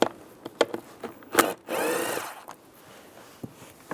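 A 7mm socket spins out panel screws on a 2007-2013 Chevy Silverado, with one short buzzing whir of a power driver among scattered close clicks and knocks.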